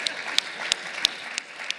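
A conference audience at an opening plenary session gives a brief, sparse round of applause: about six separate, sharp hand claps spaced unevenly across under two seconds, with no voices.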